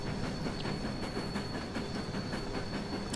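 Loaded freight train hauled by an LMS Class 4F steam locomotive in Train Sim World 4, rolling with a steady rumble, rhythmic wheel clatter and a faint high hiss, close and continuous.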